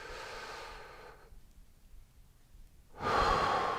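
A breath during a seated yoga twist, a soft airy exhale fading into near silence, then a louder, close inhale rushing in at the end, with no talking.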